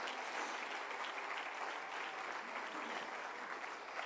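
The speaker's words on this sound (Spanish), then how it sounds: "Yo le daría un mejor aplauso al Señor." A church congregation applauds steadily, a dense wash of many hands clapping close and loud for about four seconds with no talk over it.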